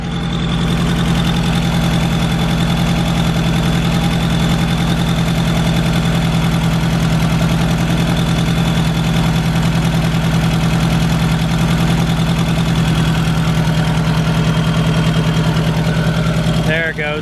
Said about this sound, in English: So I have a really big exhaust leak.